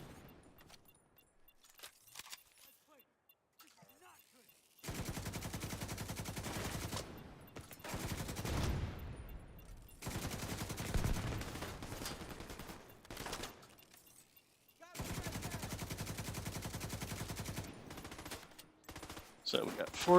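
Enemy gunfire in The Division 2: several long bursts of rapid automatic fire, each lasting a few seconds, separated by quieter gaps with scattered single shots.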